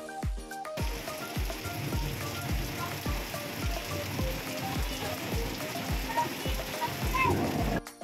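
Spoon scraping and clinking rhythmically against a pot while champorado, a Filipino chocolate rice porridge made with Ricoa cocoa, is stirred, with a steady repeated tapping cadence and faint background sound.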